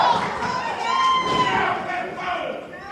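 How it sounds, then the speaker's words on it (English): A wrestling crowd at a handicap match cheers and shouts continuously, a loud dense roar of many voices with some higher calls rising above it. "some of the crowd still cheers him on"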